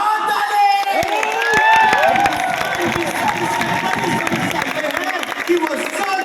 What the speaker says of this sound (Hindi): अरे बजाओ ताली।